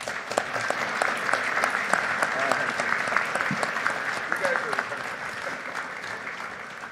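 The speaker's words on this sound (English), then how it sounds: "Round of applause for all these." An audience at a university speaker-series event applauds steadily for about seven seconds, a dense, even wash of many hands clapping that fades slightly toward the end.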